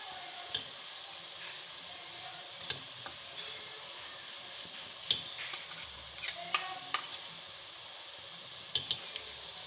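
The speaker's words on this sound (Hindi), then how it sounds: "अब मैंने अदरक और लहसुन हरी मिर्चों का पेस्ट बनाया था, वो इसमें डालेंगे 5 चम्मच।" Ginger, garlic and green chili paste goes into onions frying in a pan for chicken bhuna masala. A soft, constant sizzle hisses underneath, broken by scattered clinks and taps of a spoon.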